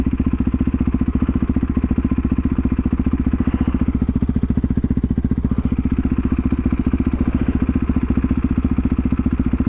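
A Harley-Davidson motorcycle engine idles and shakes with a fast, even, loping thump, steady and close throughout, with no talking over it.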